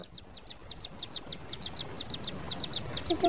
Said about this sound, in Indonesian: Kenapa ada burung?